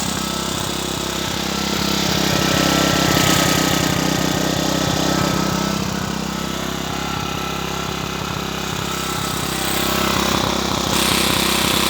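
A Zipper 1100 portable generator runs with a loud, steady engine drone and rapid mechanical chatter, close up and without interruption, with no voices.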